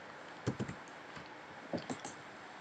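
Computer keyboard keys pressed for a Ctrl+R shortcut in a circuit simulation program, heard as two quick pairs of soft, close clicks with quiet gaps between them.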